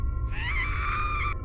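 A woman's shrill, sustained scream of terror, a single drawn-out wail lasting about a second over a low rumbling background in a horror story setting, with no talking.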